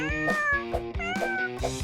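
A kitten in a My Little Pony video game gives four short, fairly loud meows in quick succession, each with a bright rising-then-falling pitch, with no voices over them.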